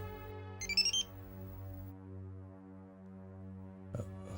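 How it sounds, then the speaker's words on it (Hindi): A telephone rings with a short electronic warbling tone over a steady low hum, then gives a second brief chirp near the end, with no voices. "आ गया सिंघानिया साहब का फोन।"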